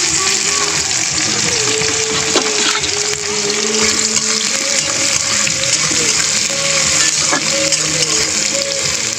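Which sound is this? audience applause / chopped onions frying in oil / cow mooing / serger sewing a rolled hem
chopped onions frying in oil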